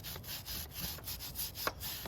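A brush scrubs a section of a Honda Rebel 500 motorcycle chain in quick, rhythmic back-and-forth strokes, soft and close, with a small knock near the end.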